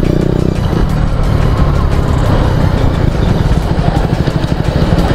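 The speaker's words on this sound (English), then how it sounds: "let's go in 4th gear and let's downshift into 3rd without rev matching it" KTM Duke 250 motorcycle downshifting from fourth to third gear without rev matching, a loud, rough engine note with road noise throughout, recorded close while riding.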